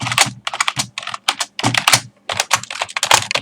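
Fast typing on a Microsoft Wired Desktop 400 keyboard, close-up crisp clacking keystrokes in quick bursts with brief pauses, loud and alone.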